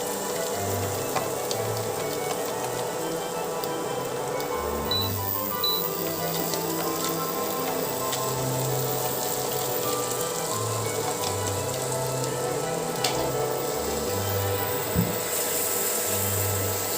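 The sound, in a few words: crushed ginger, garlic and onion frying for pav bhaji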